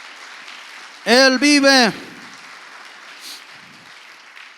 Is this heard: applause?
yes